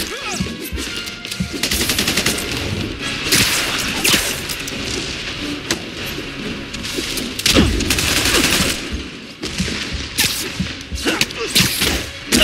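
Bursts of gunfire from the video game Marvel's Spider-Man Remastered crackle through a dense, busy game mix, with sharp repeated shots and impacts spread across the whole stretch.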